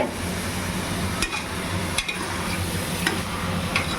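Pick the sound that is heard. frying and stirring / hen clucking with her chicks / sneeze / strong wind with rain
frying and stirring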